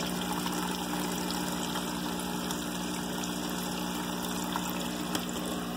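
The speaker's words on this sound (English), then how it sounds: "I'm using a small brushless pump here. It's drawing water from the bottom," A small brushless pump circulates water in a deep water culture hydroponic tank, giving a steady low hum with a faint watery trickle that runs evenly and unbroken throughout.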